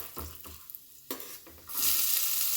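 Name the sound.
curry leaves sizzling as they are added to hot oil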